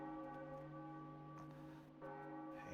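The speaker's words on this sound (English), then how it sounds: "knocker of the bell. Or we're directly moving it." A large bell in The Legend of Zelda: The Wind Waker, set swinging with a grappling hook, hums in a sustained metallic ring with steady tones, fairly quiet and alone.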